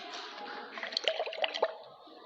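Running water rinses laboratory glassware during a chemistry salt-analysis practical, a steady splashing stream with a few brief drips and clinks in the middle, close and fairly quiet.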